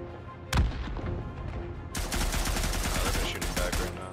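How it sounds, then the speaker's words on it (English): Gunfire in the First World War video game Isonzo: one sharp close shot, then a sustained crackle of rapid machine-gun fire, with scattered voices faintly in the mix. "I think they're shooting back right now."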